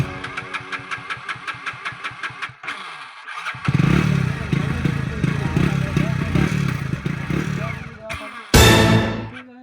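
A motorcycle engine chugs in a regular putter, falls briefly quiet, then roars as it revs unevenly and ends in a loud surge, with voices heard over it.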